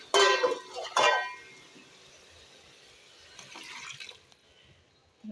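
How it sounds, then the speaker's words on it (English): Water splashes into a cooking pot of salted tomatoes in an African village kitchen, coming in two short bursts followed by a softer trickle, close and without speech. "I'm going to add water."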